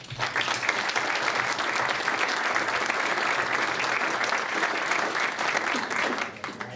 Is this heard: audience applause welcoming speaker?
yes